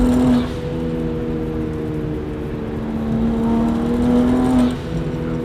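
A BMW 135i engine tuned beyond 400 hp revving high and steady at about 5,000 rpm, droning loudly with a slight rise in pitch toward the end before easing off.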